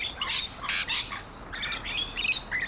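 Nectar-eating birds squawk harshly and repeatedly at close range in Merimbula, New South Wales, their raspy calls overlapping in quick bursts.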